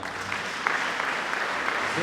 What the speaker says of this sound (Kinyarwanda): Yesu akomerwa amashyi menshi cyane